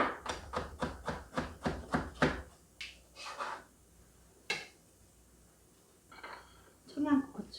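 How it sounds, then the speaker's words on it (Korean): A knife minces broccoli on a cutting board, about eight quick, even chops that end abruptly, followed by a few softer scrapes and handling noises, all close and fairly loud. "브로콜리는 다져 주세요."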